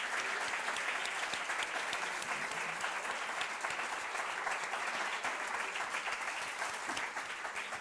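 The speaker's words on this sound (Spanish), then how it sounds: "Les aplaudimos porque yo creo que nos han..." Steady audience applause for two guests at a literary talk, a continuous, even patter of many hands clapping, fairly faint and distant in level, lasting several seconds without a break.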